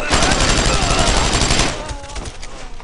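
Dense bursts of gunfire crack continuously in the World War II shooter Brothers in Arms: Road to Hill 30, loud and close for nearly two seconds, then thin out into scattered shots.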